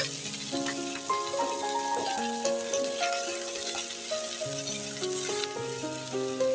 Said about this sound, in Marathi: कांदा भाजताना मी यामध्ये थोडा तेलाचा वापर सुद्धा करणार आहे, म्हणजे कांदा पटकन मऊ होईल